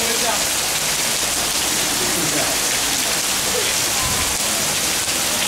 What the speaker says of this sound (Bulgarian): като бонус получихме впечатляващ дъжд